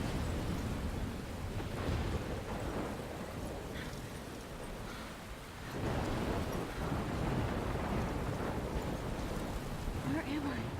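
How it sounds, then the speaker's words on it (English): Thunderstorm in the Life is Strange video game: steady broadband rain wash with low rumbling thunder swelling and fading throughout, continuous and fairly loud, with no clear talking. "We're in a storm."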